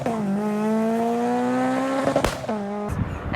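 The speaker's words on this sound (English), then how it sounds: "burbles on downshift, pops and flames in between shifts." A modified Honda S2000 with two-step, its exhaust holding a steady engine drone that drops in pitch, then sharp pops and crackles break in near the end, loud and close.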